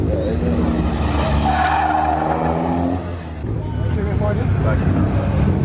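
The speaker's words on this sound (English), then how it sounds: "Oh yes, that's drifting." An Audi drifting sideways with its tyres skidding and squealing, engine roaring continuously at close range, while excited people shout and talk over it.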